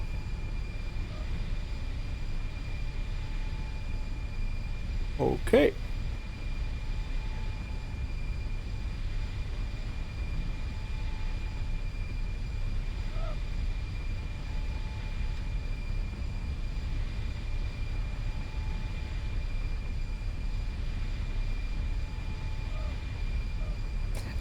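The auxiliary power unit of a Sukhoi Superjet 100 in X-Plane gives off a loud, steady droning hum that continues without a break, with one brief click and a single short spoken word.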